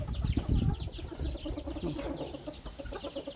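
Chickens, both laying hens and older birds, cluck at a rural Thai garden home, a busy layered flock chatter that stays moderately loud and continuous under background farmyard noise.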